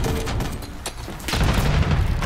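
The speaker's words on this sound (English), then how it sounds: "I just ate that nade." A grenade explodes in Black Ops 6 during a Hardpoint match, a loud close boom with a rumbling, crackling tail over dense in-game noise.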